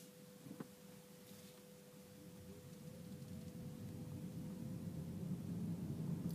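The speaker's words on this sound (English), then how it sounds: "You can hear road noise, you can hear the little electric engine moving just a little bit" A 2012 Chevrolet Volt pulling away on electric drive gives faint road noise, a soft broadband rush that slowly swells over a thin, steady hum.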